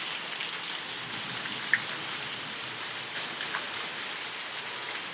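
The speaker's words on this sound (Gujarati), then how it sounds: "પણ વરસાદ એટલો ચાલુ જ છે" Heavy rain pours down steadily near trees, a dense, continuous hiss of drops hitting surfaces that stays even and loud throughout, with a single brief drip-like tick standing out.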